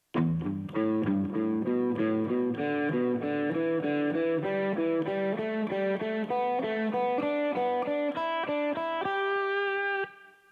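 Electric guitar plays a repeating three-note pattern climbing steadily up a scale, notes even and clear, ending on a sustained higher note.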